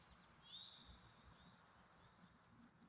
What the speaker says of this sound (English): Placid, bucolic nature sounds. Birds chirping.